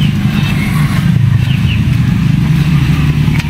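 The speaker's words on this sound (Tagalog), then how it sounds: "Nakalagpas na yung isang motor Grabe na may bilis nagpatakbo ng motor dito porket maluwag ng daan" A motorcycle speeds along an open road, its mid-pitched engine drone loud and steady throughout, as though passing close by.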